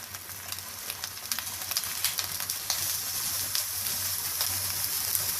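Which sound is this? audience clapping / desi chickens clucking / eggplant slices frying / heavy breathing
eggplant slices frying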